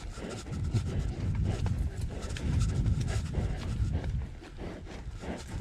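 Steady clopping of a palomino mare's hooves walking on a hard surface, close by, with a continuous low rumble underneath and no talking.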